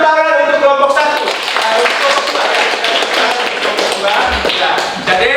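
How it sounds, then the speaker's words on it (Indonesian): Classroom audience clapping for a presenting student group, loud and close, with a voice talking over the start and the claps continuing as a busy patter throughout. "Oke, jadi kita tepuk tangan untuk kelompok 1."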